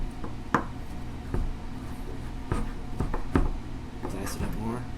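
A knife dices filling for Big Mac dumplings on a cutting board, giving irregular sharp chops spaced about a second apart, with a person talking over the cutting.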